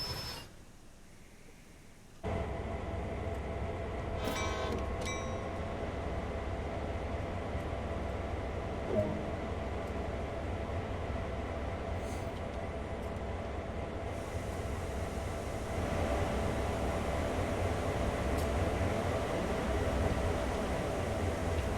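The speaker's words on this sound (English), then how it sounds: "Release the brake and just let the train coast" A freight train coasting in Train Sim World 2, with a steady, loud rolling rumble of wheels and wagons that continues without a break, cutting in after a short quiet start.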